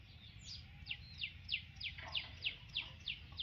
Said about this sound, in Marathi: पक्ष्यांचा तेवढा कालवा चाललेला असतो रोज